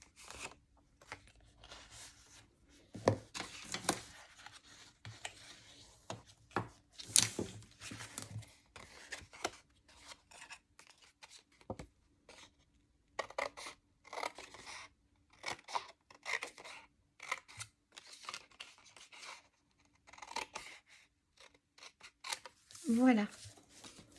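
Scissors snip through dark coloured paper while making a two-part treat box, giving short crisp cuts and rustling in irregular bursts, fairly quiet, with someone speaking in between.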